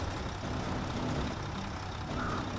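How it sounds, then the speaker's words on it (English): Engine of a Mack truck in a video game, a steady low idling rumble with a faint whine running throughout, nearby and unbroken. "Is the engine audio reused from the Mack Defense?"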